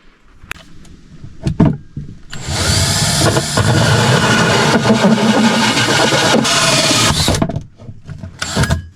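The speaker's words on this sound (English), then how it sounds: "another hole saw, and the hole saw size I am using is 2 1/2, and that'll fit nicely over." A 2 1/2 inch hole saw on a power drill cuts through material while installing a diesel heater in a camper van; a loud, steady grinding whine of about five seconds follows a few brief starts and knocks, with no speech.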